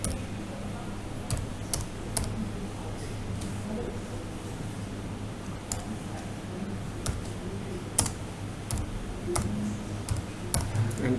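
Typing on a computer keyboard, a scattered series of crisp key taps at an uneven pace over a low hum, close and fairly quiet.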